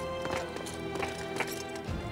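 Horse hooves from the video game Dynasty Warriors 9 at a stable, a few soft clopping beats over a quiet musical game background, faint and fairly brief.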